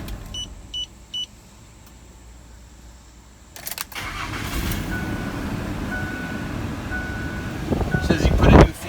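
A Ford F-150 with a 4.2-liter V6, previously troubled by a blown fuse, sits quietly through a few short chime beeps, then cranks and fires into a loud, close, rough idle that swells near the end.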